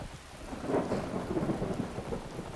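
Thunder rolls through a lightning storm in Skyrim, a faint, low rumble swelling and fading over a couple of seconds, with a soft rain-like hiss beneath and no voices.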